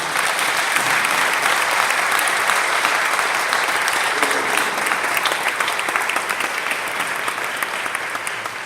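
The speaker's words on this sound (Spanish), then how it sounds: "Den un aplauso a Jesús, el Señor." A church congregation breaks into loud, sustained applause for Jesus, many hands clapping in a thick, continuous roar that holds steady and eases slightly toward the end.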